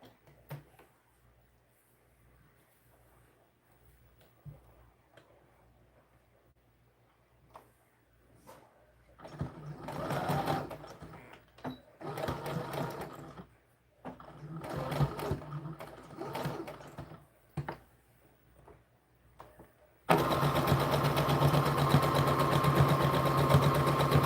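A home sewing machine stitches a skirt for an American Girl doll, starting and stopping in short close bursts of motor whir and needle clatter, ending with a steady continuous run.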